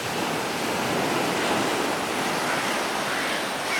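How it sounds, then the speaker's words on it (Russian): Stormy sea surf pounding the embankment in Yalta, a steady, loud roar of breaking waves with continuous broadband wash and some wind buffeting on the microphone, no voices. "Море, море."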